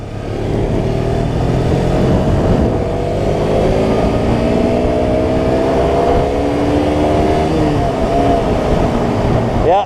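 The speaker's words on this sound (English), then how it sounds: "I'm taking it into the red line because I'm expecting more and I shouldn't" A KTM RC125 motorcycle engine is revved hard toward the redline while riding, a loud, close whine climbing steadily in pitch through each gear, with brief dips at the shifts.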